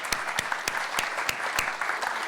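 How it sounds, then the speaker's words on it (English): A small audience at a community film Q&A event claps in a soft, steady patter of distinct, fairly evenly spaced hand claps, faint and with no talking. "Can you join me in another round of applause for Mitch and all of our team here?"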